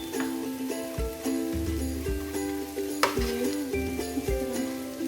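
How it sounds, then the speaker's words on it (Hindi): Potato samosa filling fries in a hot pan, a steady sizzle broken by repeated scraping stirs and light clinks of the spoon, close and clear with no talk. "यहाँ पे आपने तेज़ करके इसको हल्का जल्दी भून लें"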